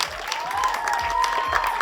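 An audience claps for director Anurag Singh at the Border 2 teaser launch event, a dense, steady wash of applause with light cheering, under a tonal musical swell.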